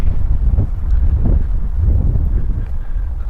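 Strong wind buffets the microphone on an old volcano hilltop near Flagstaff, Arizona, a steady loud low roar with gusty swells throughout and no voices.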